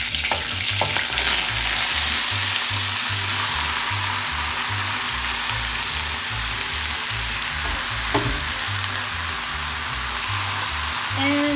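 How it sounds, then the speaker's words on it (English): Steady, loud sizzling of cactus frying in hot oil in a pan, a continuous crackle throughout with no talking. "And now we will spread it up on the frying pan."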